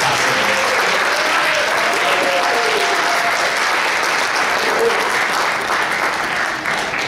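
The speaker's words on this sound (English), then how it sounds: "Let's please give all of our students a huge round of applause for everything they're doing." Dense, steady applause from a school jazz festival audience cheering student jazz musicians, loud and continuous throughout with no talk over it.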